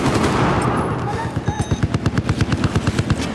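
Rapid automatic gunfire bursts in the video game Battlefield 4, a loud rhythmic stream of shots following an initial roar of noise, with a voice speaking at times.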